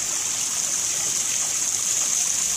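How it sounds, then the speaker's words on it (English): Backyard pond waterfall trickling steadily, a continuous bright hiss of falling water that stays even and close throughout, with no voices. "You hear the sound of the waterfall, even at night in the house."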